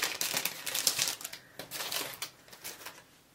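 Paper packaging crinkles and crumples close up as a parcel holding a small 13 cm ruler is opened, with dense rustling bursts and short pauses throughout.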